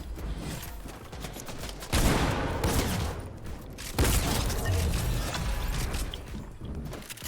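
Gunfire in the video game Fortnite, bursts of rapid shots and mechanical clatter that come in loud waves separated by brief lulls, with no talking over them.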